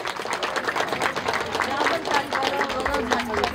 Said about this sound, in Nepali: खोइ त ताली।